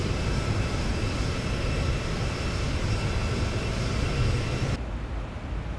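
Cockpit sound of a Boeing 737 descending in a ZIBO/PMDG flight simulator: a steady, dense engine and airflow roar that fills the clip, then drops to a duller, softer drone near the end.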